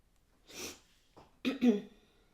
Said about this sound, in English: sorry I'm sniffling.